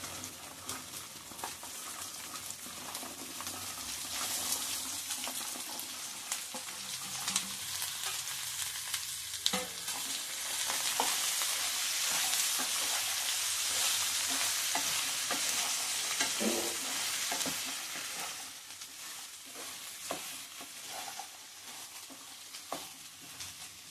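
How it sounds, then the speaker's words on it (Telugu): Okra pieces with turmeric fry in a pan on medium heat, sizzling steadily while a utensil stirs them with repeated scraping and tapping, close and moderately quiet. "మీడియంలో పెట్టి బెండకాయ ముక్కలు ఈ విధంగా కలుపుతూ ఉండాలి."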